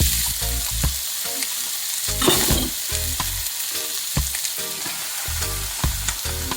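Diced onion sizzles and crackles in hot oil in a pan, with loud rhythmic scraping and stirring bursts repeating over a steady frying hiss.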